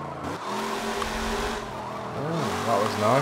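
A 1964 Chevrolet Impala Super Sport in Forza Motorsport 7 revs and roars with rising and falling engine pitch and some tire squeal, loud and close, building toward the end.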